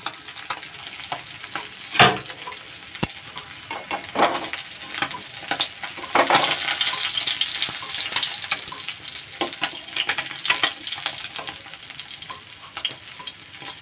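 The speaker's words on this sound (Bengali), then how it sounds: "এবার একটা একটা করে মাছ তেলের ভিতরে ছেড়ে দেব।" Hot oil sizzles and crackles loudly as small puti fish fry in a pan, with sharp pops and spatters breaking through the steady hiss.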